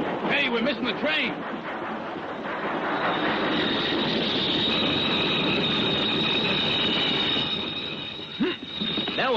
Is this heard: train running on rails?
yes